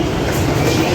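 A train to Bandung, Indonesia rumbles steadily nearby, a loud, continuous low roar of rolling wheels and carriage noise with no break throughout.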